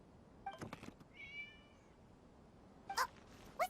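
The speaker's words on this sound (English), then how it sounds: "It was just a cat." A cat meows in the video game Genshin Impact, with a few short, fairly faint meows spread across a quiet scene and no one talking.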